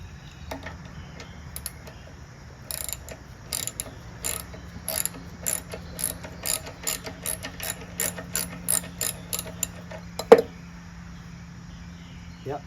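A wrench clicks and ratchets in short bursts while turning a stiff nut on a dirty carburetor of a Craftsman 6.5HP 21-inch Briggs Quantum push lawnmower, up close over a faint background hum.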